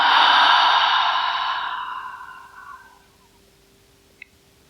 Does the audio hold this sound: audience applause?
no